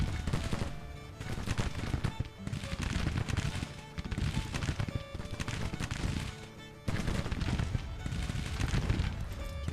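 Dense, continuous musket volleys crackle through a Civil War battle in the Grand Tactician video game, loud and sustained with overlapping shots and only brief lulls, with no voices over the din.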